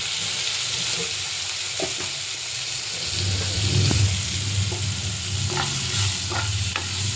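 Tomatoes with a pinch of turmeric stir-fried in a pan, a steady close sizzle with scraping spoon strokes that grow busier partway through; no voices.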